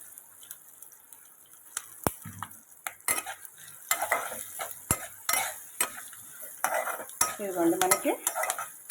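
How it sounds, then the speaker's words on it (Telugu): Asafoetida goes into a sizzling tempering for raw mango pulihora, with a soft frying hiss under repeated metal spoon scrapes and taps against the pan, close but fairly quiet. "ఏదో ఫైనల్గా కొంచెం ఇంగువ వేస్తున్నానండి."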